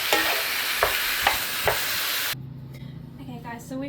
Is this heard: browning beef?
yes